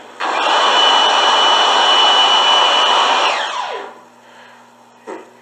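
A blue Airdri S9 hand dryer runs loud and close with a steady blowing roar and motor whine for about three seconds, then winds down in pitch to silence, followed by a brief click.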